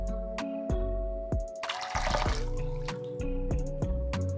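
A long espresso shot of about 250 grams trickles into a bowl for tiramisu: close, liquid dripping and pouring with steady plinks and a brief gush midway, over the hum of an espresso machine.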